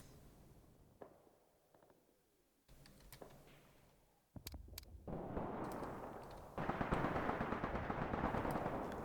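Gunfire from the tactical wargame Graviteam Tactics: The Guns of Volna, with scattered shots and bursts that build into a dense, continuous barrage of rifle and machine-gun fire, growing louder toward the end.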